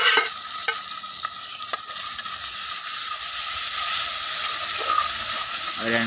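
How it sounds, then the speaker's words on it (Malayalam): Tomatoes and masala fry in a pan with a loud, continuous sizzle and hiss while a spoon stirs and scrapes nearby. "എല്ലാം കൂടി ഒന്ന് നല്ലപോലെ ഇളക്കി കൊടുക്കണം നമ്മൾ ഒന്ന് ഒന്ന് ഒന്ന് മൂത്ത് വരണം"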